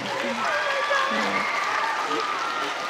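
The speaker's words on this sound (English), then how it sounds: "Give her a big round of applause" An audience at a parent training session applauds, a moderate steady patter of clapping with a voice speaking over it throughout.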